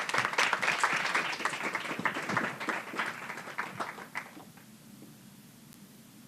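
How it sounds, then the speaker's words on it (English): Audience applause for speaker Kate: dense clapping from a crowd that swells, then tapers off over several seconds into near quiet, with a single sharp sound at the very end. "If we could give her a round of applause."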